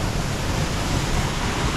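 Grey mountain river water pours over a small weir on the Tour du Mont Blanc, making a loud, dense, steady rush close by.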